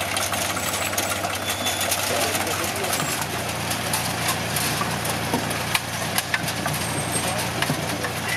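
A tractor engine runs steadily during a historic potato harvest with an old potato digger, a continuous low mechanical drone with clattering, knocking texture throughout, fairly close and loud with no one speaking.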